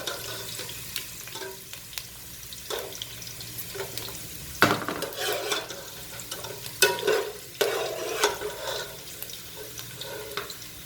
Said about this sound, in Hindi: बादाम मैंने हल्के से फ्राई कर लिए।